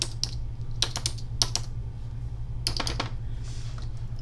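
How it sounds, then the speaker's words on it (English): A password is typed on a computer keyboard: quiet, close key clicks come in short irregular clusters over a faint steady background hum. "Well, if I can type it in correctly."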